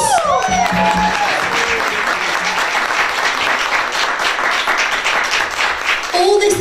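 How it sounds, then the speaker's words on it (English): Sustained applause from an audience at a women's organisation's tenth anniversary event, dense clapping lasting several seconds, with brief voices at the start and end. "Applause!"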